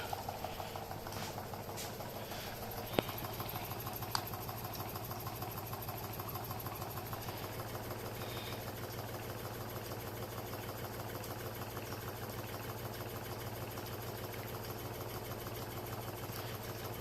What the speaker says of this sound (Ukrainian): давайте подивимось на оберти двигуна під час заряджання